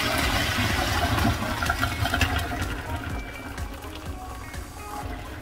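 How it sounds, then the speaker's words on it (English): Hot water from a pot of cooked basmati rice gushes out through a strainer in a kitchen, a loud, continuous rushing pour that slowly thins and softens toward the end, with no talking. "So now what we're gonna do is we're gonna strain off this rice."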